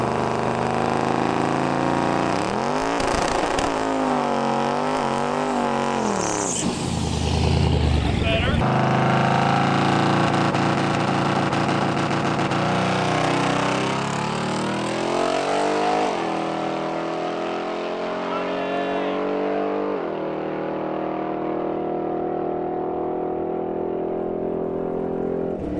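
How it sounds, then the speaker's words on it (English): A Malibu car doing a burnout at a drag strip, its engine roaring loudly and rising and falling in pitch with tire whine over a continuous harsh rumble, close and sustained, with voices under it. "do a better burnout"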